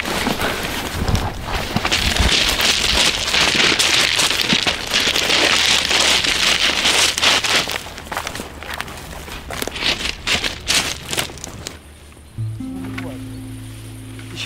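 Steady rain patters on a surface outdoors in the Chernobyl exclusion zone near a restored railway line, a dense continuous hiss with footsteps and people talking throughout, ending in a quieter stretch with a low hum.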